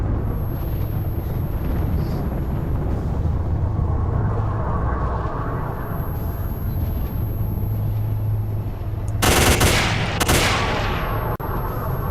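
PKM machine gun firing in the video game Oblivion Lost, a loud continuous roar of automatic fire with a dense rumbling texture and a sharper burst near the end.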